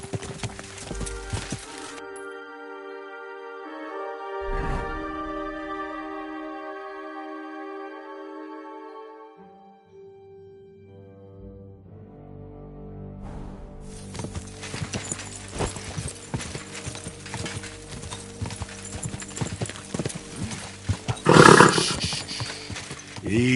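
Horse hooves in Kingdom Come: Deliverance clopping along at a steady walking rhythm, joined by a whinny and layered under swelling game music, growing louder and busier toward the end.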